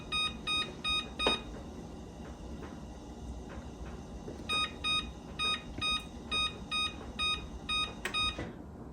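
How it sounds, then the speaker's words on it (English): A kitchen cooking timer gives short, bright electronic beeps in quick, evenly spaced bursts, first a brief cluster, then a steady run of repeated beeps after a pause, fairly close and with no talking. "So I'm just gonna put a cooking timer, and then I will put 2 hours on there."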